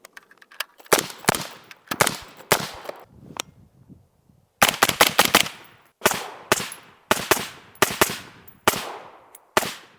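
Suppressed 5.56 rifle with a short barrel and Q Southpaw suppressor firing at a range, with sharp cracking shots in rapid strings and bursts. The shots are fairly close, separated by brief pauses.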